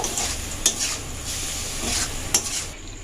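Chicken pieces frying with onions in a pan, a continuous loud sizzle with a few sharp scrapes and clinks of a spatula stirring against metal, close up and without talk.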